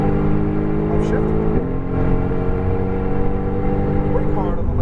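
A Mercedes AMG GTR engine pulls hard under acceleration, its drone dipping briefly for an upshift before climbing again, close and loud beneath an instructor's continuous talk.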